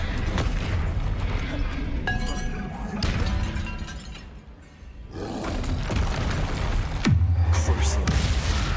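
Confringo fire spells burst in the Hogwarts Legacy video game, producing rumbling booms and roaring blasts with crackling debris, loud and layered over game combat noise, with a brief lull midway before another heavy impact.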